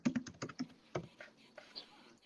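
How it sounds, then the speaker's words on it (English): Fingers tap quickly on a computer keyboard, a close, quiet run of clicks in uneven bursts with short pauses between them. "Mikey, I'm here typing."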